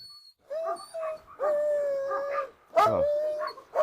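A Dogo Argentino or Rottweiler howls and whines in drawn-out, wavering cries, several in a row, close by with short pauses between them.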